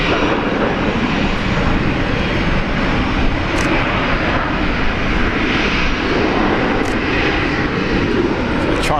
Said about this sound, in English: Rexy is landing now.